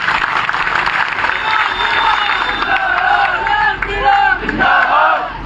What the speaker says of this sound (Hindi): एक बार जोरदार तालियां आप उनके सम्मान में बजाएं।